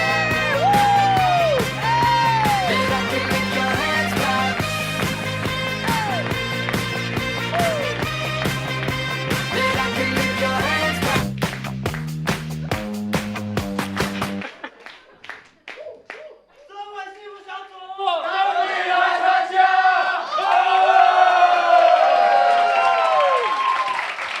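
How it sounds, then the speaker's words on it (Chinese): A crowd applauds and cheers at a group launch event with dancing. Loud clapping, whoops and yells swell in the latter part after a stretch of music, with voices shouting over the noise. "掌声鼓励！"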